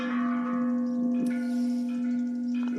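Church bells toll with a strong sustained hum, one brighter stroke cutting in partway through, ringing on their own from some distance.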